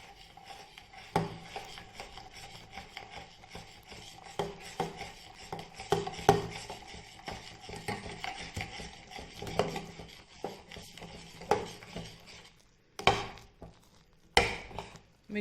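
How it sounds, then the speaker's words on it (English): Phare rice dough stirred with a sturdy spoon in a pan over a low flame, giving repeated rasping scrapes and knocks against the pan, fairly soft and close, with a few sharper strokes near the end. "now start mixing with a sturdy spoon"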